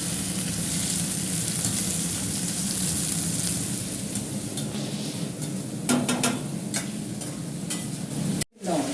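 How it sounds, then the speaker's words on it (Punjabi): Green chilies, ginger and tomatoes roasting in a pan give a steady, dense sizzle throughout, with a few brief stirring scrapes and a short dropout near the end. "ਹਰੀਆਂ ਮਿਰਚਾਂ ਅਦਰਕ ਤੇ ਟਮਾਟਰ ਵੀ ਇਹਦੇ ਵਿੱਚ ਪਾ ਦਿੰਦੇ ਹਾਂ ਚੰਗੀ ਤਰ੍ਹਾਂ ਲੈਣੇ ਆਪਾਂ ਭੁੰਨ"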